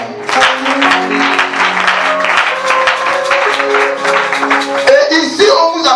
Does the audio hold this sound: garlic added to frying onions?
no